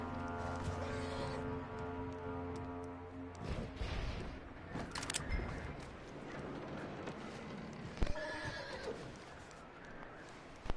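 Horse in Red Dead Redemption 2 neighing and whinnying loudly up close, with clopping hooves and shuffling movement, plus a couple of sharp knocks near the end; no talking.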